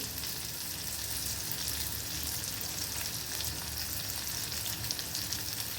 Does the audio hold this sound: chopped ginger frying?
yes